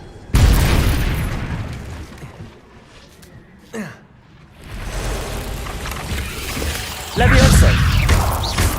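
Incendio fire spell cast in Hogwarts Legacy: a loud burst of flame bursts out sharply, then fades to a low rumble, followed later by another roaring blast.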